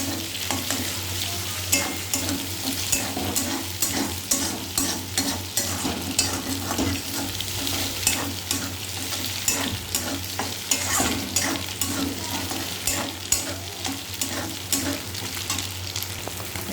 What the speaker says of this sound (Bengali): ডিমটাকে এর মধ্যে এরকম করে নাড়াচাড়া করে ভাজা করে নেব।